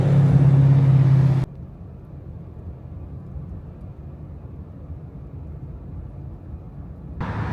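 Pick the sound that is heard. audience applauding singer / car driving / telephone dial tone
car driving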